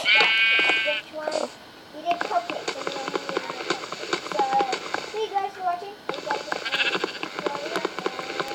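Game-style sheep bleats repeat amid busy, jangly game sound effects, with a voice heard briefly near the start.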